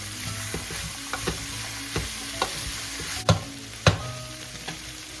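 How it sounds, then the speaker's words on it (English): Ingredients for Filipino chicken glass noodle soup sautéed in a pan, a steady close sizzle broken by irregular knocks and scrapes of a spatula, with two louder clanks partway through. "Continue sautéing our ingredients here."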